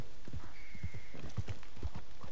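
Horse hooves clip-clop in Red Dead Redemption 2, a steady walking rhythm of close, fairly quiet thuds over low game ambience.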